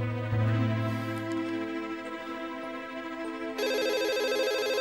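A telephone rings steadily in a quiet room, its electronic ring tone repeating clearly and then jumping to a brighter, louder pattern partway through.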